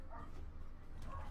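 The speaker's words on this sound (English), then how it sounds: "if y'all can hear my dogs barking" Dogs barking outside a house, heard faintly and at a distance as a few soft, muffled barks through the walls.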